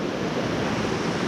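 A river rushes beside a hiking trail, a loud, continuous broadband roar of flowing water heard close up, with no voices.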